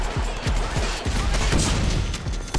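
Rapid gunfire in the Deadpool video game, a dense burst of close, loud shots with crashing impacts over a couple of seconds.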